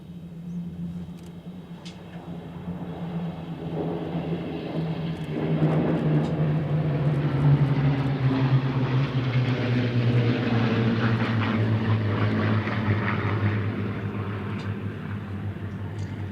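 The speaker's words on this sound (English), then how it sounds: "from the left, here is the Spitfire Overture" Six Supermarine Spitfire propeller fighters pass over the Duxford airfield during a Flying Legends airshow, their engine drone swelling from distant to a loud, sustained roar and then easing as they move on.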